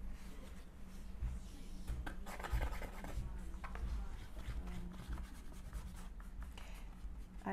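Brush strokes of white paint on paper for a lion mask craft, a steady soft scratching and rubbing close by, continuous through the whole stretch with small irregular bursts.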